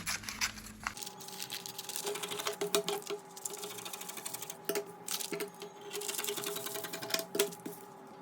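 Fabric cut for a dolman ruched dress makes quick rhythmic snipping and crunching sounds in bursts, close by, with no talking.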